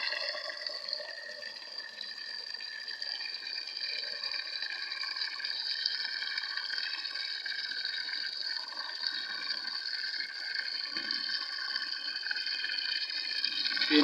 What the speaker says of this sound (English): The water is coming from the tap.